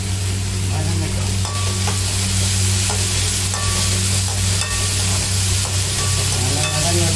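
Tomatoes sauté with salt in a pan, giving a loud, steady sizzle and hiss close by, with occasional light utensil clinks and a constant low hum underneath.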